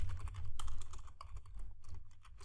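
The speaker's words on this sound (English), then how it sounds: "So as you can see, I'm typing a pipe symbol out there and password." Rapid clattering keystrokes on a computer keyboard, typing a username and password into a login form, close and steady with uneven bursts and short pauses throughout.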